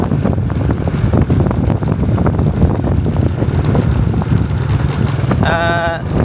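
Strong wind gusts across the Mekong River near Nong Khai, buffeting the microphone in a steady loud rush over water, with a brief tonal whine near the end.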